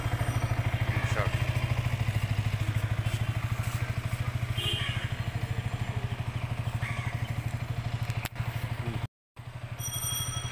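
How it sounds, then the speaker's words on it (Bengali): A motorcycle engine runs at idle after being started, its rapid regular putter close and steady, with a voice speaking briefly over it and a short cutout near the end. "আমরা বাইক স্টার্ট করে দেখাবো"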